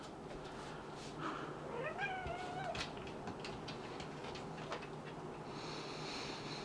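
A cat meows a couple of times, fairly close, over a steady low hum and background rumble.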